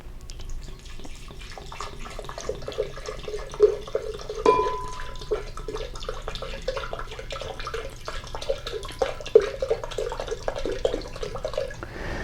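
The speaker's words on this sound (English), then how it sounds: "We're going to be starting by putting some spring water" Spring water trickles and splashes into a blender, an uneven pour with drips and small clinks, close by and moderately loud.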